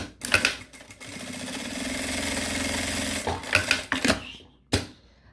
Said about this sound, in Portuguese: Agora, passa a costurinha aqui embaixo.